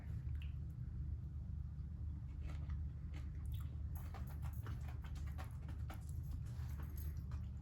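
Someone bites into baked mac and cheese topped with crunchy panko and Boursin cheese, and steady close-up crunching and chewing continues without talk.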